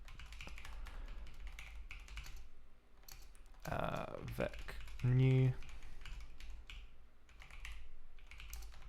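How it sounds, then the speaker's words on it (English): Computer keyboard typing in rapid, irregular bursts of close, crisp key taps, continuing under a man's brief spoken words and a short louder vocal sound in the middle. "You'll have to excuse me making a bunch of typing errors."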